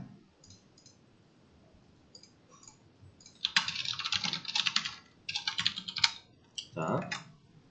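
Computer keyboard typing during a database class, with sparse keystrokes at first and then dense, quick bursts of clicking clatter up close, with a faint voice underneath.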